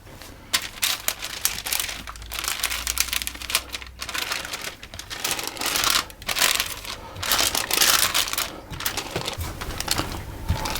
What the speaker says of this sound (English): I'm going to put some more parchment paper on the top, and I want to roll that out